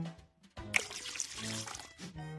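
Hot water poured from a cup into a bowl for a gelatin salad, a brief bright splashing pour of about a second and a half, close and clear with music around it.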